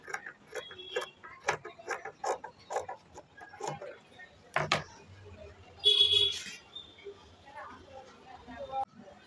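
Scissors snip through excess blouse fabric while a katori blouse is being stitched, making a run of sharp, irregular clicks and cuts with a brief rustle in between. A voice speaks quietly at moments.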